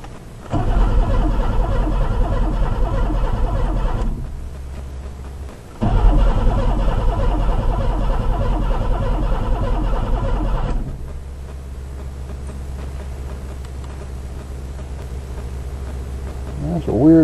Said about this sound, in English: That's a weird sound on that pump.